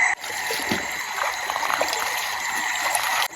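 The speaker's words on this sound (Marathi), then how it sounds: "कमीत कमी चार पाच दिवस जोरदार पाऊस पडतो ना तेव्हा असा पाणी होतो" A rainwater stream rushing after heavy rain, at night near a hillside, makes a steady gushing flow that carries on for a few seconds with no voices.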